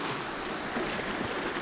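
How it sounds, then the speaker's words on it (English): Sea waves wash over and swirl around rocks at Kimmeridge Bay, a steady, fairly faint rushing hiss with no distinct breaks. "a lot of the waves going over the rocks and having it swirling around the outside"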